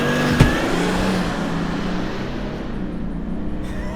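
A Toyota Land Cruiser 300 accelerates hard from a standstill with a loud, steady engine roar, and a sharp knock comes early on before the roar slowly fades as it pulls away.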